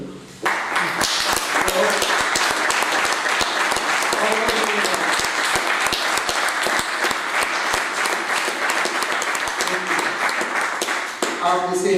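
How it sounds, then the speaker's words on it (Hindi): Seminar audience claps loudly and steadily for about twelve seconds, a dense, continuous wall of applause that starts abruptly and fades at the end, with faint voices beneath. "अपने लिए ताली बजा देना।"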